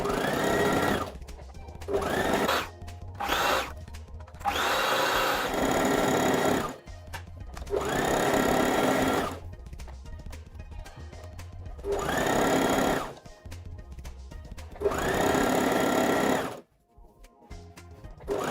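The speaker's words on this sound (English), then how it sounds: "So here I'm stitching the sides now." A sewing machine stitches the side seams of a T-shirt dress in several bursts of rapid mechanical whirring, each lasting a few seconds and separated by short pauses, close and clear with no talking.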